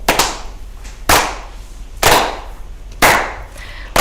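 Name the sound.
everyone clapping along to a Maori song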